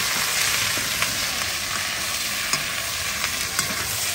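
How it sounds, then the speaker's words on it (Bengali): Steady loud sizzling of onions frying in oil, with occasional scraping taps of a spoon stirring the pan; close up, no voices. "ভালো করে একটু নেড়ে নেবো পেঁয়াজটা"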